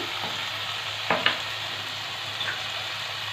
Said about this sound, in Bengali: চিনি দিয়ে ভালোভাবে মশলাটা কষিয়ে নেব।